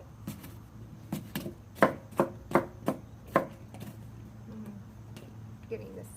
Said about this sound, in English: okay, I'm just chopping up this apple now.